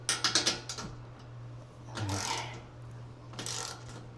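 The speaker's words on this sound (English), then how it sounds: "That was 20 foot-pounds." A torque wrench tightens the running board nuts on a 2025 Chevy Silverado 2500 HD to 20 foot-pounds. A quick burst of sharp ratcheting clicks up close is followed by quieter scraping rubs.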